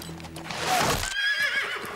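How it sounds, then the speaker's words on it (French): Horses neigh loudly in a battle setting, a sharp whinny rising and falling over about a second and followed by another shrill call, with clip-clop hoofbeats and field commotion underneath. "Épargne les chevaux, Maharbal."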